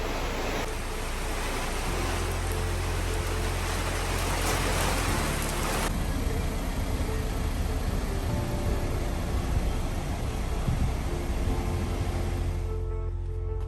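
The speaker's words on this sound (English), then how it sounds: "It's raining." Steady rain patters and hisses continuously, dense and close, with no talking.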